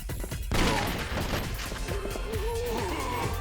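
Gunfire and shotgun blasts from the Yakuza 4 video game, a dense run of loud shots and impacts packed together, with a voice talking over part of it.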